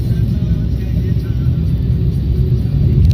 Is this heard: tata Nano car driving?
yes